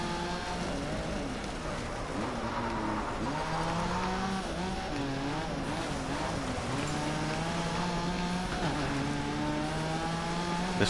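An off-road racing car engine roars in the Gravel video game, with the car handling like a trophy truck. The engine drones steadily, its pitch rising and falling with revs and gear changes, and no one speaks.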